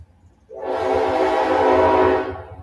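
A train's horn blasts loud and close, a sustained blaring tone starting abruptly and holding for about two seconds over low rumbling.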